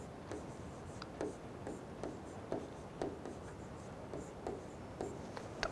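A pen scratches steadily across paper while an answer is written out, a soft continuous scribble broken by small taps and strokes at a close, quiet distance.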